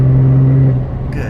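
A diesel truck fitted with a pedal controller holds a loud, steady engine drone before the note eases off and settles into a lower rumble near the end.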